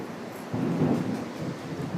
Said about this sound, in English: Just got a storm going through here at the moment. Pretty loud, isn't it?